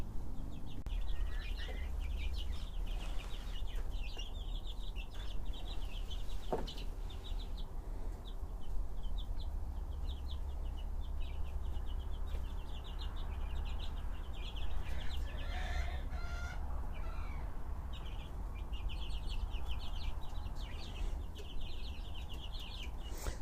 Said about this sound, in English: The squawky noise that you can hear in the background is one of the girls deciding that